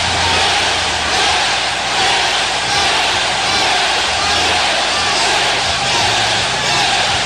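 Pro wrestling arena crowd reacting to Daniel Bryan's corporate makeover, a loud, continuous roar of many voices with swelling chants and cheers and no single speaker standing out.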